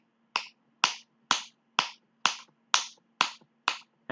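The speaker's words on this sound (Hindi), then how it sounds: "आप अपनी फिंगर को स्नैप कितनी टाइम कर सकते हैं" Eight crisp finger snaps in a steady rhythm about half a second apart, close and clear, with no other sound.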